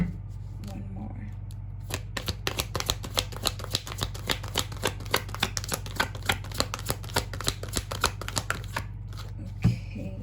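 Cards being shuffled and flipped in a rapid run of crisp, close riffling clicks lasting several seconds, with a quiet voice at the start and end.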